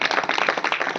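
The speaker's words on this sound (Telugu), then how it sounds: "చప్పట్లు కొట్టి దేవుని మహిమపరుస్తాం" An audience at a gospel meeting in Vepanapalli claps to glorify God, a brief burst of quick, fairly even hand claps, close and lively, with no talking over it.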